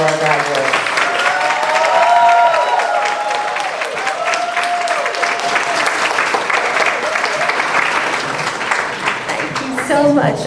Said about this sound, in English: please give a big round of applause for all of our graduates.